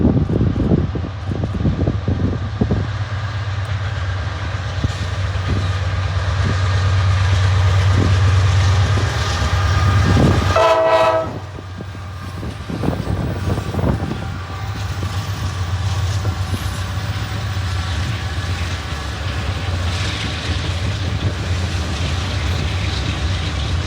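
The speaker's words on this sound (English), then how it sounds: "we would get surprised by another train" A freight train rumbles past on the Chicago line, a steady heavy roll of wheels on rail with a short horn-like tonal burst midway before the clatter eases off; close and loud with wind buffeting.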